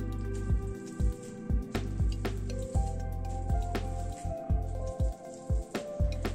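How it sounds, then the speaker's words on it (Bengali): Boiled kabuli chickpeas are smashed with a masher, a series of soft, wet squishing thumps in an irregular rhythm, close and moderately loud. "কাবলি চানাটাকে স্ম্যাশার দিয়ে একটু স্ম্যাশ করে নিচ্ছি।"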